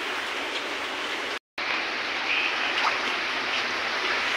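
Heavy rain falls in a flooded area as a steady, dense hiss that is interrupted by a brief dropout, with no talk.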